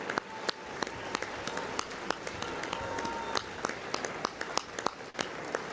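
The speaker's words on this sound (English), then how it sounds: "The clapping is unnecessary at this point." Audience applause fills the chamber at the State of the Union address, a steady mid-distance crowd clapping with sharp individual claps standing out, with no talk over it.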